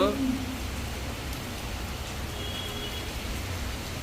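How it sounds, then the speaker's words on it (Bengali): A continuous, even hiss of heavy rain falls outside, muffled and steady throughout, after a brief voice at the very start. "বাইরে ঝমঝমিয়ে বৃষ্টি চলছে"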